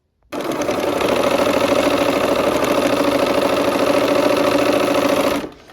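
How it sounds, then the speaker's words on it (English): A sewing machine stitching quilt seams at a 1/4 inch seam allowance gives a loud, steady, fast mechanical whir for about five seconds, starting and stopping abruptly. "we'll go ahead and sew these seams"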